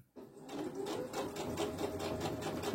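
A sewing machine stitches stretchy snood fabric slowly, its needle pulsing in an even, rapid rhythm that runs continuously, close and fairly quiet.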